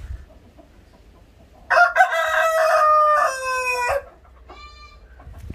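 Desi rooster crowing on a farm: one long, loud, close crow with a strained, wavering tail, followed by a fainter second call against quiet rural background noise.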